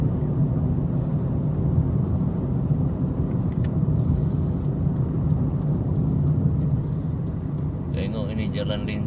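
Steady road rumble from cars travelling fast on a highway at night, heard continuously from inside a vehicle while someone talks over it.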